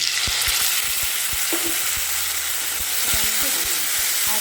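Onion frying in hot oil with ginger, garlic and green chili for an okra dish, a steady close sizzle with soft stirring scrapes throughout.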